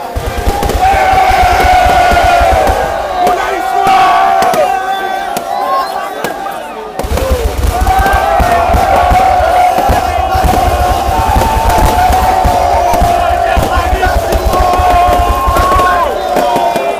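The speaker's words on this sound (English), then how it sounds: "crowd goes wild" A large crowd at a Zanzibar Revolution Day celebration roars and cheers loudly and continuously, with a brief dip midway before the noise surges back, dense and close.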